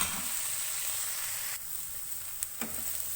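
Shredded cabbage fries on medium flame in a pan for chicken fried rice with carrots, giving a steady soft sizzle and hiss with a few light clicks of stirring near the end.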